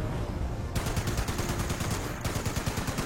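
Rapid bursts of gunfire from a Fallout video game, aimed at an enemy's head, crack loudly in a fast rhythm of shots with a brief pause midway.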